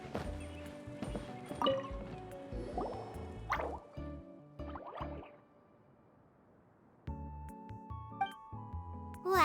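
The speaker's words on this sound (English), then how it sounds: "it sounds like a water droplet is on the second floor" Clear water droplets fall one at a time in an irregular series inside a video game, each a bright plop with a short ring, alongside scattered game sound effects and a quiet gap in the middle.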